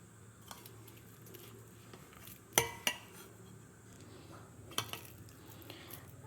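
Ragi flour being mixed with slightly sour curd in a bowl, mostly quiet, soft stirring punctuated by a few sharp spoon clinks against the bowl, close and without talk.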